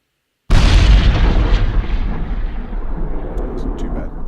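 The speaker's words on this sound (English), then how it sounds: "This is the bomb explosion." A loud video game bomb explosion bursts in abruptly after a moment of silence, then rolls on as a long, dense rumbling roar that decays only slowly without fully fading.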